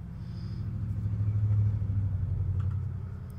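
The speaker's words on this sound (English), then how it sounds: "Of course, I don't hear a single car, and then I go live, and every single loud vehicle" Loud cars pass outside, a low engine rumble that swells to a peak and fades away over a few seconds, muffled as if heard from indoors.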